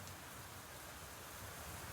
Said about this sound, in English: The real problem here is this rain.